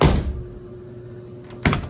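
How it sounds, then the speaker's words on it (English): A 1963 Ford Falcon Sprint car door opens with a brief close clunk, then after a quiet stretch with a faint steady hum, shuts with a firmer solid thunk. "And the door opens and closes just fine."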